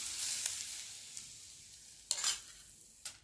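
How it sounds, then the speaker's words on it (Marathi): Asafoetida hits a spoonful of hot oil as a tempering for papad chutney, giving a soft, steady sizzle that fades, then two sharper spitting bursts near the end. "छान अशी हिंगाची फोडणी"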